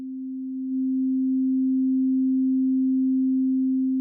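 A synthesizer's pure sine wave passes through a VCA and comes in as one steady, loud, unbroken low-pitched tone that holds for several seconds, with a faint click at the very end.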